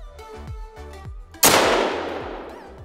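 A 9.3x74R rifle fires a single sharp, loud shot at a deer in theHunter: Call of the Wild, set in a quiet outdoor scene with a rhythmic musical background, the blast decaying in a long echo.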